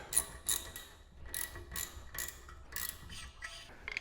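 Faint ratcheting clicks in short irregular bursts as a bolt is tightened to press a rear brake rotor off the hub of a 2004-2008 Acura TL, close up with no talking.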